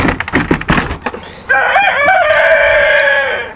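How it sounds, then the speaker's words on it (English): A gray-tailed barn rooster crows once, loud and close, a long wavering call after a few seconds of clucking and rustling in a barn. "Helen is the rooster that you see right there."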